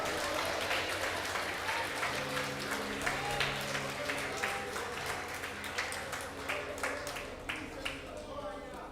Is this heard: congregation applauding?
yes